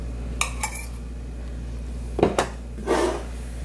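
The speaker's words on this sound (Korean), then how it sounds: "처음부터 손으로 하시지 말고 이런 스푼으로 이렇게 저어줍니다." A spoon stirs flour dough made with salt water and cooking oil in a bowl for dumplings, producing a few scattered, close knocks and scrapes against the bowl with quiet gaps between.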